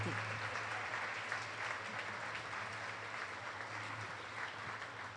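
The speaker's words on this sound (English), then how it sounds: "You could stand up so your kids could give you a round of applause." Steady applause from an audience at an evening school awards ceremony, a dense, even wash of many hands clapping that holds throughout without voices standing out.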